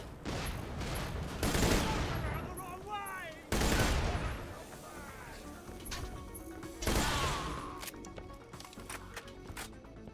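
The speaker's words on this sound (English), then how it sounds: "Like if you shoot too fast, it doesn't recognize it." Gunfire in the shooter game Borderlands: The Pre-Sequel comes in loud bursts of shots with sharp impacts and crashes, spread across the clip over game sound effects.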